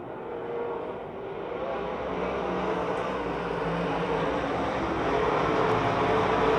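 Race cars at Pennsylvania Motor Speedway, a dirt oval track near Pittsburgh, roar in a steady, dense engine drone that holds loud and even throughout, with a faint rise toward the end.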